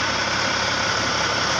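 A bus engine idles steadily and loudly during an engine service test, a constant low rumble and vibration with no pauses throughout.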